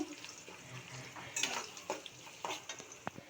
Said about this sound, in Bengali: পেঁয়াজগুলি লাল করে ভেজে নিচ্ছি